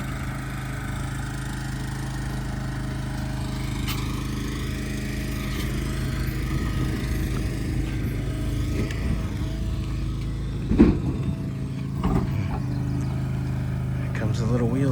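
A small wheeled machine moving a shed back and forth, with a steady engine hum and drone close by that rises a little near the end. A person talks over it.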